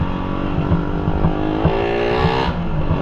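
A Suzuki Raider 150 motorcycle with a stock carburetor revs loudly and close, its engine note climbing and surging with rising pitch before easing slightly near the end, with no voices over it.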